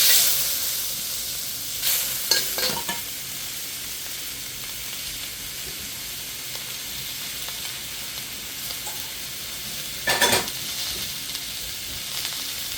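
Shrimp with string beans fry for Thai fried rice, a loud, continuous close sizzle in the pan with a few brief scraping stirs early on and again near the end.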